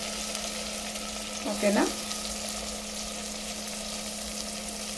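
Onions, coriander and green chillies sizzle in hot oil in a pan under a steady frying hiss, with a brief burst of stirring and a short spoken word partway through.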